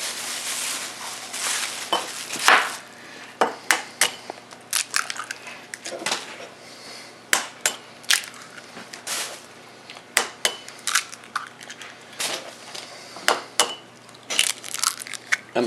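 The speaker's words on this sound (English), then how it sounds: "I'm going to go over here and crack open some eggs." Eggs being cracked open in a home kitchen, heard as a long run of sharp, close shell cracks and taps at an irregular pace, with soft crunching between them and no talking.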